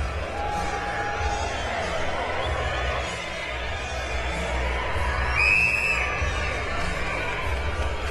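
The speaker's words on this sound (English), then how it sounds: "this crowd is now really into it after the knockdown by Bute" A large boxing crowd roars and cheers continuously after a knockdown in the Lucian Bute vs Brian Magee fight, a dense wash of noise with a brief swell of whistles and shouts near the middle.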